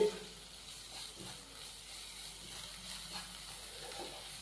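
Chicken samosa filling with green chillies and spring onions fries over low heat in a pan, giving a soft, steady, faint sizzle with light stirring.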